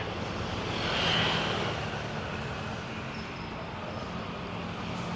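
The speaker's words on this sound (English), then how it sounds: "I'll throw the drone up on that one." A drone whirs steadily overhead as it climbs in a Pattaya village street, its broad engine-like hum swelling briefly and then holding steady under distant traffic noise.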